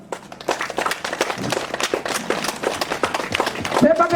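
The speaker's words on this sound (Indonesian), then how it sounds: "tepuk tangan untuk OMK di sini." A church youth group audience at a New Year gathering in Yogonima claps in a dense, rapid patter that grows louder toward the end, mixed with talking voices.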